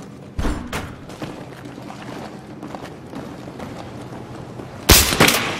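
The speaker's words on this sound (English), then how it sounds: "Two explosions." Explosions in the video game Battlefield 3: two heavy, booming blasts, one early and a louder one near the end, over a low, quiet background rumble with no talking.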